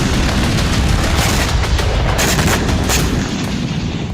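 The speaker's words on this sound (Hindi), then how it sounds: "इसी के साथ ही जोरदार धमाका हुआ" Loud, dense rumbling boom with sustained blast noise from a Ukrainian sea drone striking a Russian landing ship in the Black Sea off southern Crimea, continuous and heavy throughout with no voices.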